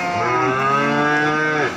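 At the Grabag cattle market in Magelang, one cow gives a single loud, close, drawn-out moo lasting almost two seconds before fading, with faint crowd murmur beneath.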